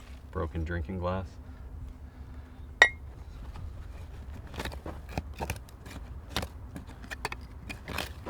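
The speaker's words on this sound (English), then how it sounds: "Broken drinking glass." Broken drinking glass and old bottles from a backyard cache clink and tap as they are handled, in sharp scattered knocks and a brighter ring. A voice is briefly heard at the start.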